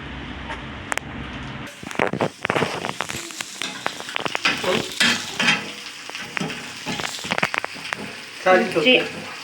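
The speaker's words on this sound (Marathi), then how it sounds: "अंडा भुर्जी वेगळी पद्धतची. फक्त मिरची, हळद, मीठ आणि अंडे, बस. सिंपल. चांगले तळायचे." Egg bhurji with chili, turmeric and salt frying in a hot pan, loud close sizzling broken by repeated scraping and stirring clatters of a spatula throughout.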